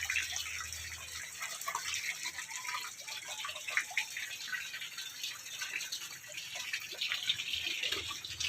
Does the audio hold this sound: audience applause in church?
no